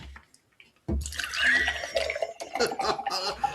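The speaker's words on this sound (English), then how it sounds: "So you've got to invert the can and then pour really fast into a glass." Nitro beer pours fast from an inverted can into a glass, a loud hissing, gushing rush of liquid with splashing and foaming that runs under a brief thump at the start.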